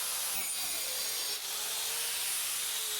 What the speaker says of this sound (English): On wood, the Termit allows you a moderately aggressive carve.